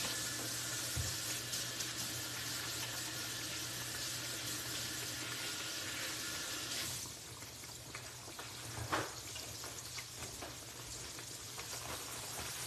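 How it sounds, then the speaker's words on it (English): Water from a kitchen tap running steadily over hands, a loud continuous splashing rush that weakens partway through and continues more faintly. "Let me wash my hands."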